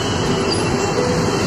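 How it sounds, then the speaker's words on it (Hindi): A metro train rumbles past on an overhead track, a steady loud continuous roar of rail noise and wheel squeal with no break. "वहाँ पे आपको मेट्रो जा रहा है"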